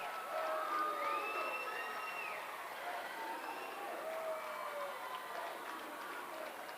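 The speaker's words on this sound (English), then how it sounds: "Senator cheer block chanting thank you seniors" Senator student cheer block at a girls' high school sectional basketball game chants in unison in a gym, a broad sustained crowd roar with shouted rising voices, steady and moderately distant.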